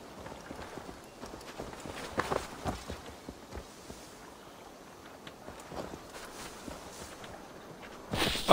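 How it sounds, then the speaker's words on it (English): Horse hooves clop on the ground in Assassin's Creed Valhalla, an irregular run of moderately loud hoof strikes under wind-like ambience, ending with a louder rush of noise. "Let's go. Get on a horse."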